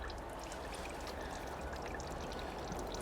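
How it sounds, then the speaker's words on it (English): Steady, faint trickling and pouring of coolant draining from a Honda CX500 motorcycle radiator, continuous and even throughout. "Drain the rest of the coolant."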